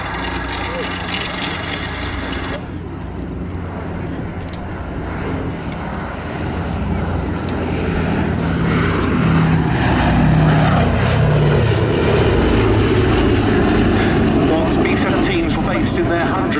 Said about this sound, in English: This is now the only airworthy flying fortress in Europe